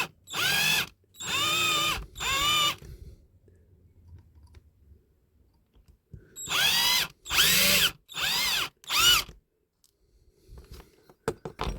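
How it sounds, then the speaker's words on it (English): A power drill whirs in short, loud bursts drilling out a screw in a 1973–78 Corgi Rago Rascal Roller diecast toy, three at first and four more after a quiet pause, then a few light clicks. "But if I drill that out"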